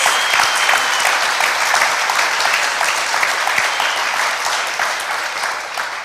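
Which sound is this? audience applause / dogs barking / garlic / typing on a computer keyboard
audience applause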